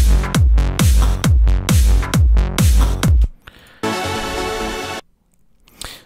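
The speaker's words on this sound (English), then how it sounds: "Let's just turn on the kick." A punchy electronic kick drum in Ableton Live pounds in a steady four-on-the-floor pattern, deep and loud, then stops, leaving a brief burst of noisy texture.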